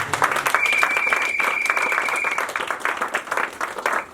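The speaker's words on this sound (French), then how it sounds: "Non, acclame Jésus." A church congregation applauds during a sermon, steady mid-loud clapping from the crowd, with a voice or a held tone briefly over it.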